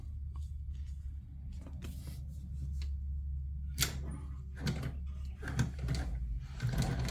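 A sewing machine joins two pieces of fabric with a steady low motor hum, broken by several sharper clicks and ticks of the needle mechanism. No one speaks.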